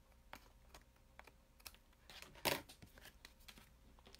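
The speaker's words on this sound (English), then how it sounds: "I'm going to trim it even with just the side of the card." Cardstock panel being trimmed on a paper trimmer: a run of soft, quick clicks and scrapes from the blade, with one louder slicing rasp midway, close and quiet with no talking.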